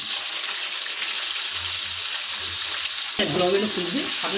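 Steady hiss of chopped onions frying in hot oil in a wok, loud and continuous, with a brief clatter and scrape near the end.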